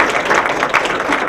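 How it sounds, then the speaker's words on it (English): An audience at a university Dean's List celebration claps for the dean, a dense, even wash of many hands sustained across the whole short stretch, fairly loud and close, with no voices over it. "I think we owe a big round of applause to our Dean"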